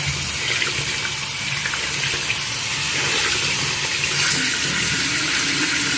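Water runs from a sink tap in a steady, close, fairly loud gush that holds at an even level throughout, with no talking over it.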